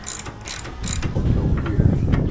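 A ratchet tightens a bolt while a motorcycle shock is fitted. Its pawl clicks rapidly and closely in short bursts, over a low mechanical rumble.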